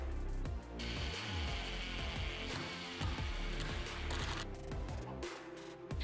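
A power drill drives coated exterior pocket hole screws into wooden framing for an outdoor sofa, giving a steady, fairly quiet whirring hum with small shifts in pitch and no talk.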